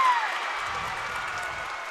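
At a high school basketball game between Central High and Denham Springs, a gym crowd cheers and applauds, a fairly distant wash of noise that carries under a commentator's voice.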